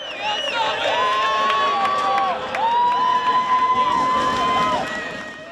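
A crowd cheers and shouts after a goal at a women's college soccer match, with long sustained whoops and high voices rising together, fairly close and lively.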